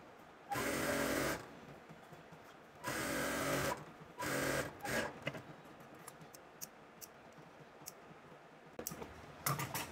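A sewing machine stitches elastic into a palazzo skirt in loud, bursts of rapid whirring, three longer runs followed by shorter stitches and scattered clicks and handling taps between them.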